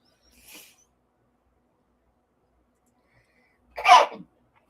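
A single sharp sneeze bursts out near the end, preceded by a faint soft breath or sniff in otherwise quiet surroundings.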